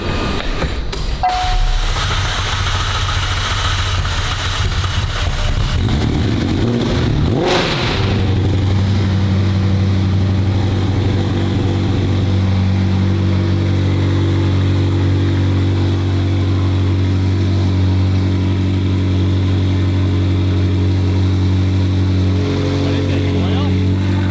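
A 1300 hp McLaren 720 GTR that is reluctant to start churns on its starter, then its engine catches and settles into a loud, steady idle with rising revs, close by, while people talk underneath.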